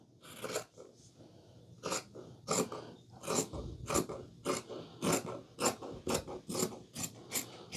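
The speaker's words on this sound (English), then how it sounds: "And I'm just gonna cut it about this much." Scissors cut through a scrap of stretch fabric in a series of about a dozen short, crisp snips close by, with brief rasping strokes and no talk.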